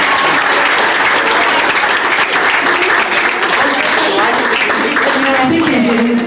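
Guests at an 80th birthday party give Joe loud, continuous applause, a thick steady wall of clapping with crowd voices mixed in throughout.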